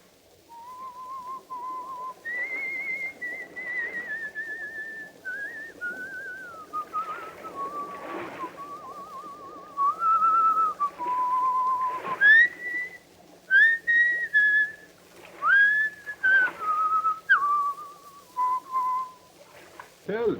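A man whistles the tune Annie Laurie, a slow, clear melody of sustained and gliding notes that carries on for the whole stretch, close and alone.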